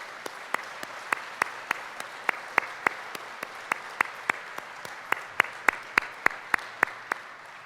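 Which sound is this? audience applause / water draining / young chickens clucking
audience applause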